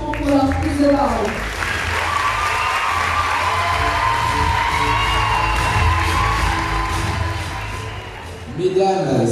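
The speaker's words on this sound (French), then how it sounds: "Elle mérite tout un maximum d'applaudissements pour leur prise de parole" At the Miss Lens 2023 pageant in Lens, a crowd applauds a Miss contestant with a few whoops and cheers. The clapping is loud and continuous, and a voice is heard speaking briefly at the start and again at the end.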